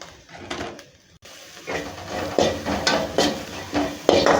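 Chopped capsicum sautéing in a pan for a healthy home-style lunch dish, with repeated scraping and clinking of a spatula against the pan over a soft sizzle, close and moderately loud, with no talking.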